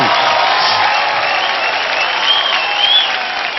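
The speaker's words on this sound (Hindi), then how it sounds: "तालियां इनके लिए।" Dense, steady applause from a large television talent-show audience on India's Got Talent, honouring an acrobatic boys' troupe, with a few cheers rising above a continuous wash of clapping throughout.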